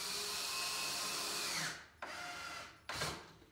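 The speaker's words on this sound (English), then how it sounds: "recess drilling" Improvised recess drilling into wood for a rabbit hutch build: a steady high-pitched drill whine runs loud and close for over a second and a half, winds down, then two shorter bursts follow after brief pauses.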